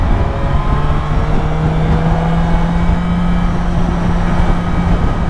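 A BMW S1000XR motorcycle engine cruises at 75 in top gear, giving a steady, sustained drone with a faint tonal hum and constant road and wind noise throughout.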